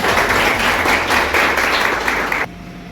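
An audience claps steadily and densely at a felicitation ceremony honoring selected UP Police 2024 candidates, the loud applause filling the room before cutting off abruptly near the end.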